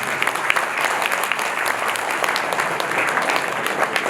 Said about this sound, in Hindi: सबके लिए होलसेल में ताली बजाओ।